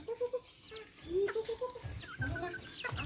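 Bantam chickens foraging for termites give a run of short, close clucks and brief calls, several birds chattering in quick, uneven bursts over low background rustle.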